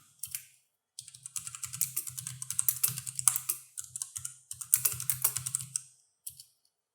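Rapid, steady typing of code on a computer keyboard, dense runs of close crisp keystrokes with a few brief pauses between bursts, heard alone without talk.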